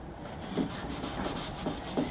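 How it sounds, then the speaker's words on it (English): A hand rubs slowly back and forth across lightly sanded wooden furniture, a soft continuous brushing with a few faint scuffs, close and alone. "I like to rub my hand across it to kind of feel it out."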